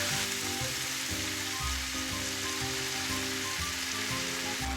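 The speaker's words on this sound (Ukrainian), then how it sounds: "Періодично помішуючи, обсмажуємо їх до золотистої скоринки." Constant sizzling of mushrooms frying in a pan, a dense crackling hiss with occasional low scraping from stirring.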